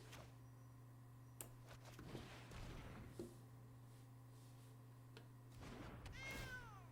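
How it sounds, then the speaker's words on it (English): A cat meows faintly a couple of times in a video game over a steady low electronic hum, with soft clicks and rustles in between. "Do you guys hear the in-game noises, like the cat meowing and stuff?"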